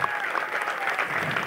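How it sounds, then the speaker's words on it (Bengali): A stage audience claps steadily in dense, continuous applause for a team's onstage work, close and lively throughout. "ওদের জন্য আরো জোরে হাততালি"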